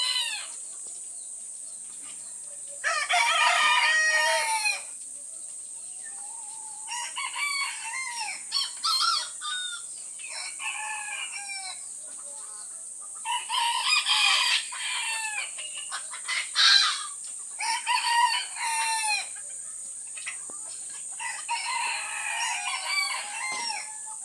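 Bantam roosters crowing in repeated loud calls close by, with clucking from fowl between the crows and a constant high insect-like drone underneath.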